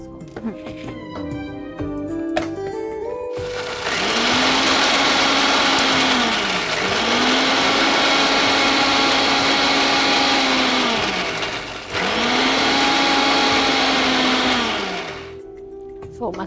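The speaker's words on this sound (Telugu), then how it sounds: "ఇప్పుడు మిక్సీ పట్టేసుకోండి." A mixer grinder whirs through masala spices with salt in loud, sustained bursts, roughly three runs with brief dips between, its motor whine steady and close; a faint voice and a small clatter precede it.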